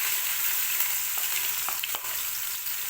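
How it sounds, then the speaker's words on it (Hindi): Onions fry in oil in a pan for a mixed vegetable curry, a strong steady sizzle close up with a few faint spoon taps scattered through and no speech. "इसके बाद हम डालते हैं प्याज"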